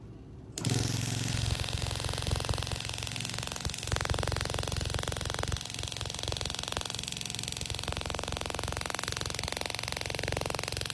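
A KATWAY carving tool running at full power cuts into aluminum, starting abruptly into a loud, harsh, continuous rattling buzz with gritty grinding texture that holds steady for about ten seconds, with no talking.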